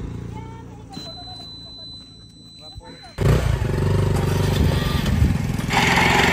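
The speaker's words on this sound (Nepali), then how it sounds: "अहिले चाहिँ फाइनली बाइक स्टार्ट भयो" A motorcycle that had trouble starting finally catches, its engine bursting into a loud, steady, rough idle and revving close by, following a quieter stretch of faint handling sounds.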